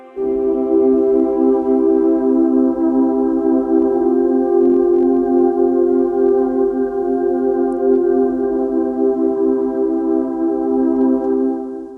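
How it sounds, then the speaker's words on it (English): Tape orchestra sound from a free software instrument plugin: a loud, steady sustained ensemble chord with rich layered harmonics, held evenly for about twelve seconds before fading slightly at the end, with no talking. "And then there's the tape orchestra."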